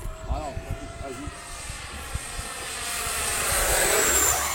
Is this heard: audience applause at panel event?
no